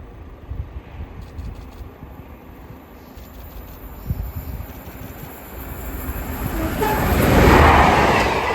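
A class 45 diesel locomotive hauling a passenger service past a level crossing, heard as a low rumble that swells to a loud, close roar near the end, with faint crossing alarm tones early on.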